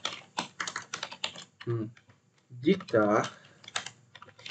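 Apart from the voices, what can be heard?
typing on a computer keyboard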